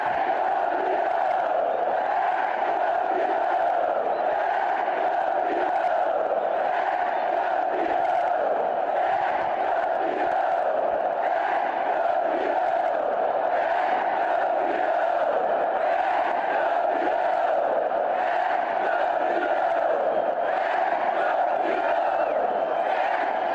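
A stadium crowd at Couto in Curitiba chants loudly and continuously in a tribute to Chapecoense, a massed roar of voices sustained in rhythmic unison throughout.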